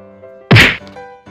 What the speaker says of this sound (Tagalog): Nilalaro naman ng pusang ito ang lobo nang maya-maya ay bigla itong pumutok.